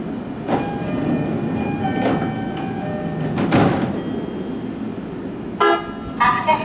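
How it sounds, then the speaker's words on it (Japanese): A JR E531 series local train on the Mito Line, at Kawashima station, sounds its door chime and slides its doors shut, then departs with rising motor and rail rumble under steady platform ambience and a few short tones. "ドアが閉まります。"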